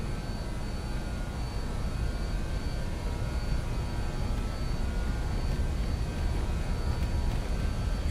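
Avro RJ85 jet engines spooled to takeoff thrust in a flight simulator, a loud, steady roar with a broad rumble and faint high whine holding constant throughout, no speech.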